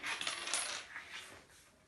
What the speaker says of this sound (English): Change the angle with which you're skidding the coins.